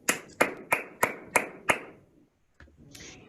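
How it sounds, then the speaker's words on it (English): An audience at a teacher workshop gives six sharp, evenly spaced claps in unison, then falls quiet before some faint movement noise. "Big round of applause."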